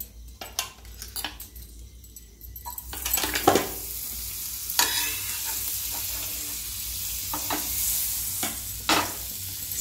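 Amul butter melts in a hot pan for a sandwich, starting as a few utensil clicks and then settling into a steady close sizzle broken by occasional spatula taps.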